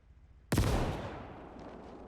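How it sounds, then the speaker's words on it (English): One loud mortar round fires in a WWII Eastern Front battle in Call to Arms Gates of Hell, a sharp, close blast whose boom rolls out and fades over the next second and a half. "And mortar rounds, okay."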